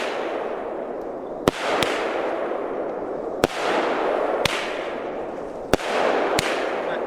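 Biedronka 'Light Fire' consumer fireworks go off outdoors in a series of sharp, loud bangs, about six spaced a second or two apart, each followed by a long fizzing crackle of sparkling glitter.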